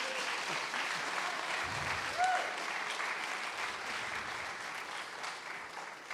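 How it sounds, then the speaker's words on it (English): Sustained crowd applause at a hackathon closing ceremony as winning teams stand on stage, steady dense clapping with a brief whoop or cheer partway through. "Give them a round of applause."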